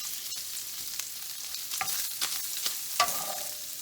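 Sausage sizzles steadily as it fries in a pan, with a few scraping stirs and clicks of a utensil close by and no talk.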